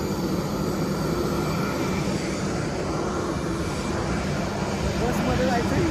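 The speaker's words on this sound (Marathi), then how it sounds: "तर फायनली हे होतं आपलं प्लेन," A passenger plane's engines roar steadily at an airport, a dense, continuous drone that fills the whole stretch, with faint voices underneath.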